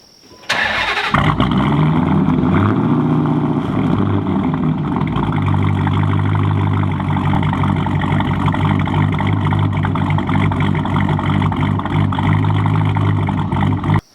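A cammed Dodge Challenger V8 engine cranks and fires up, then settles into a loud, steady, not very lopey idle with a deep rumbling exhaust that runs for the rest of the clip.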